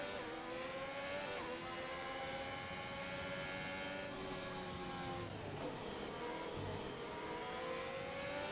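Race car in a racing video game speeding down the back straight of the Chinese Grand Prix circuit, engine note rising and shifting with gear changes, a continuous whining drone heard over the full stretch.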